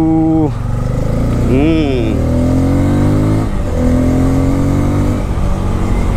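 A motorcycle engine, either a Hero Karizma 210 or a Bajaj N250, idles loudly up close and is blipped a couple of times, its pitch swinging up and back down between steady stretches of rumbling idle.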